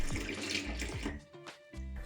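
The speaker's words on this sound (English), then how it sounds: "Pour this solution down the drain." Cleaning solution pouring down a sink drain, a steady close splashing gurgle of liquid running into the plughole with a brief break before the flow resumes.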